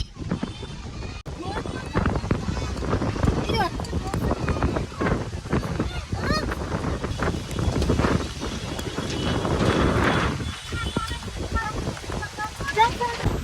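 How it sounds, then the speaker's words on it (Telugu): Strong wind buffets the microphone in continuous rough gusts, with a loud surge near the end, while voices speak intermittently underneath. "సో మీరు వింటున్నారు కదా ఈ గాలి చూడండి ఎంత ఎంత ఫుల్ వస్తుంది గాలి"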